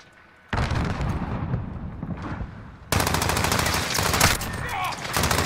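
Rapid automatic gunfire in a shooter video game, loud sustained sprays of shots with a brief lull before a denser, louder burst that runs to the end.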